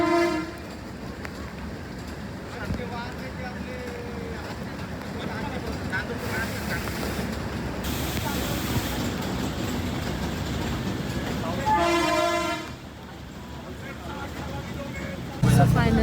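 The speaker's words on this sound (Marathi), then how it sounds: "आम्ही टॉय ट्रेनने गेलो आहे" The Matheran toy train runs with a steady rolling rumble of wagons, and loud horn toots sound near the start and again about two-thirds of the way through.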